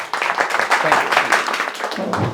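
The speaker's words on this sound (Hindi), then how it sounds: "चलिए एक बार इनके लिए भी जोरदार ताली" Students in a classroom at an AC PCB repair training institute applaud a fellow student, giving a short, close, loud burst of mixed clapping that carries on steadily.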